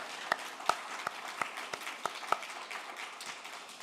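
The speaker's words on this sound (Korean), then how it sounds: "우리 모두에게 하나님이 축복하시기를 박수로 한번." A church congregation claps to bless teachers, music staff and children, with a few sharp, distinct claps standing out at a slow, uneven pace over a soft background of scattered applause.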